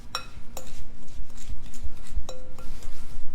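A spoon and fork scrape and clink against a bowl while creaming butter by hand for sweet potato pie, with steady close rhythmic stirring and occasional sharp metallic taps on the rim.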